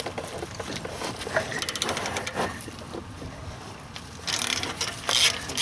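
A ratchet wrench with a 1/2 to 3/4 inch step-down on an E18 socket clicks in quick bursts on the rear brake caliper bracket bolts of a BMW F15 X5, close and fairly loud with metallic creaks.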